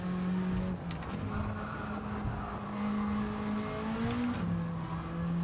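A race car in Gran Turismo 7 revs and accelerates through a lap, its engine drone rising in pitch, dropping on a downshift and climbing again, loud and close with no talk over it.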